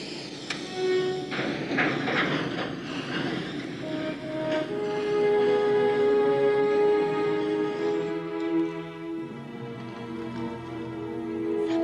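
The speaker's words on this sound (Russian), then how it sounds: "Поезд направления Верхние горы отправляется." A train rumbles and rolls away, with a long tonal whine rising over the rattle as it gathers speed; no voices.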